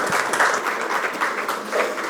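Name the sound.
audience applause for speakers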